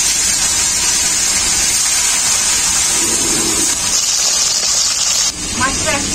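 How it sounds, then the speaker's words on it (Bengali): Turmeric-coated small charapona fish dropped into well-heated oil: a loud, continuous hiss and crackle up close, with a voice speaking over it and a sharp drop in the sound near the end. "এখন আমি মাছগুলো ভেজে নেব।"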